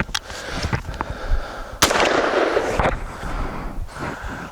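A shotgun loaded with number 7 steel shot fires at a gel block 40 yards away, giving one loud, sharp blast that rolls out into a long, ringing tail, with a few smaller outdoor knocks before it.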